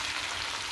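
Onion with garlic-ginger paste and tomato frying in a pan, a brief continuous close-up sizzle with an even hiss and no voices.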